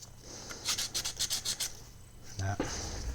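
An emery board sands filler on a 1:24 scale Occre AEC model bus in a rapid series of short, close, rasping strokes, followed by a brief pause and a few more scrapes.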